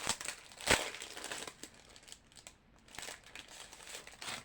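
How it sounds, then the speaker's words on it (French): A greeting card slid into a paper envelope, giving close crinkling and rustling of paper with one sharp crackle near the start, then softer scattered rustles, no talking. "celle-là, on va la mettre dans une enveloppe"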